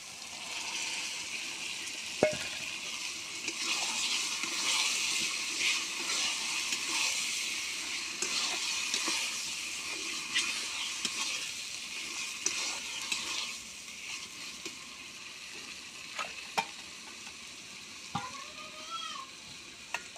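Chicken pieces sizzle and fry in oily spiced masala, with steady crackling and repeated stirring and scraping of a spoon against the pan, close up and with no talking.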